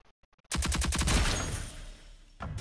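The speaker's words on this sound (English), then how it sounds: "Let's see how many bullets it takes to kill Anvil." Rapid automatic gunfire from the video game Rogue Company rips out in one loud, dense burst. It tails off, then a few faint clicks follow and a second short burst starts, with no talk.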